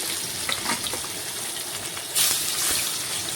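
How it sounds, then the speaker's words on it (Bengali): Rohu fish pieces rubbed with salt and turmeric frying in hot oil, a close, continuous crackling sizzle that jumps into a louder, brighter hiss partway through as another piece goes into the pan. "লবণ হলুদ মাখিয়ে রাখা রুই মাছ কিন্তু তেলের মধ্যে দিয়ে দিলাম"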